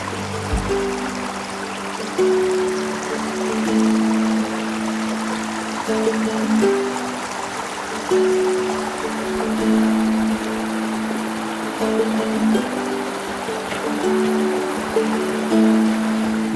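Steady rushing water of a stream in Carding Mill Valley, Shropshire Hills, fills the whole stretch, a continuous broadband wash with a low tonal hum weaving underneath; no voices.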